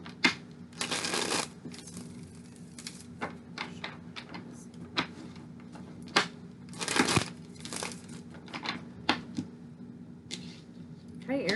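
Tarot cards are shuffled close by in repeated crisp riffling bursts separated by short pauses, with light tapping and handling sounds between them.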